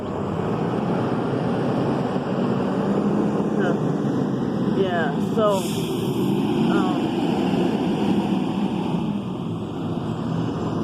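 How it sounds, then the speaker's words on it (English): A small city bus passing close by on a street, a loud steady engine rumble and road roar lasting the whole stretch, with a person talking briefly over it. "Those buses are little, and they take up more noise than the longer size buses in New Orleans."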